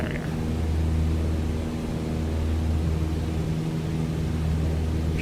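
Steady droning airplane engine inside a flight simulator, flying VFR over the Tahiti area on the VATSIM network, a continuous low hum with faint broadband hiss holding level throughout, no voices.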